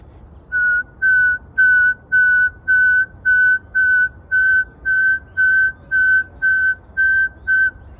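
A steady series of about fourteen short, even whistled notes at one pitch, evenly spaced, imitating a saw-whet owl's repetitive tooting call.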